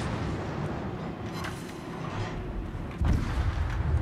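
Ship explosion in the naval combat game World of Warships, a deep booming blast that swells suddenly near the end over a continuous rumble of gunfire and battle noise.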